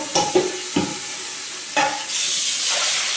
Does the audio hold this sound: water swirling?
yes